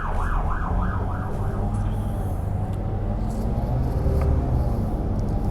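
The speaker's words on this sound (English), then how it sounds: "Okay, there's a police car." A police car passes a city bus in traffic on a Perth route, its siren wailing in rising and falling sweeps near the start, then fading, over steady engine rumble and passing road noise.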